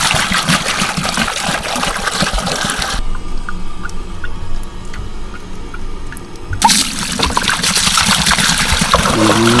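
Liquid chemical discharged from an MST 575 ULV backpack sprayer during flushing, a steady hissing, trickling spray that runs, stops for several seconds, then resumes close by, with no talking.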